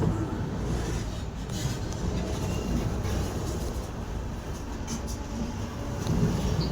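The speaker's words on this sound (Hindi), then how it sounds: "वो देख पा रहे हैं तो एकता नगर अहमदाबाद जनशताब्दी एक्सप्रेस" Ekta Nagar–Ahmedabad Jan Shatabdi Express arriving at a platform, a steady heavy rumble of train wagons rolling close by throughout, without pauses.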